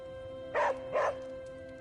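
A dog barks twice in quick succession in the video game Marvel Midnight Suns, two short clear barks about half a second apart over a steady low game ambience.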